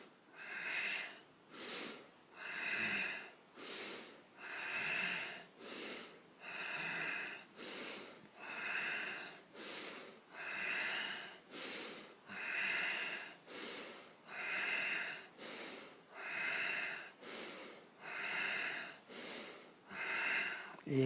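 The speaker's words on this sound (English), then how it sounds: "Inhale, ribcage expand. Exhale, contract." Deep qi gong breathing, slow regular inhales and exhales alternating in an even rhythm, about a dozen breath cycles, close and breathy with no talking.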